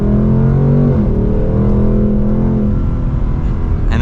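A 2024 Ford Mustang Dark Horse Premium pulls hard under acceleration, its loud V8 engine tone climbing in pitch, dropping at a quick gear shift, then climbing again, heard close and steady from inside the car.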